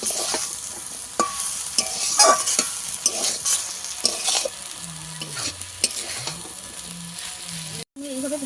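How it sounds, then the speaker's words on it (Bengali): Water spinach tossed with fried egg in a hot pan, with repeated close scraping and shoveling strokes over a steady sizzle and a brief hum near the end. "ভেজে রাখা ডিম দিয়ে দেব দিয়ে আরও দু মিনিট ভালো করে এইভাবে নেড়ে ছেড়ে একটু ভেজে নেব"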